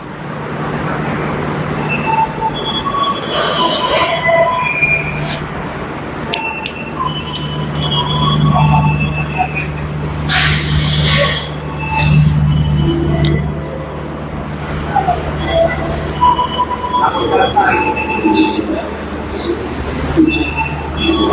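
Long-distance train at Pasar Senen station in Jakarta, a steady low mechanical hum under busy platform ambience with scattered clanks, beeps and distant voices throughout.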